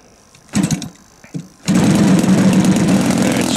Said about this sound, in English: Now I have to warm the engine.